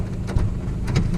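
Steady rain outside a car on a weekend drive from Shivamogga to Thirthahalli, a dense, continuous hiss with a low road rumble underneath and no voices.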